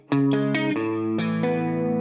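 Electric guitar riff from a Fender Telecaster played through a Roland Jazz Chorus amp with chorus effect turned up, giving a shimmering, sustained tone; a run of ringing chords picked in a steady rhythm, loud and close, with no talking.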